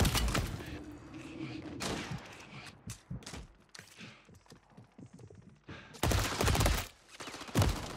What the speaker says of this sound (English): Looks like he's shooting with his pistol or something.